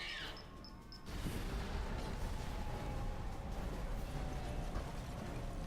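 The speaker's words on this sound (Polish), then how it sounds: "Nastąpił wielki wybuch." A large explosion in the Aliens: Colonial Marines video game erupts at about one second and becomes a sustained, loud, broadband rumble that carries on to the end, with no talk over it.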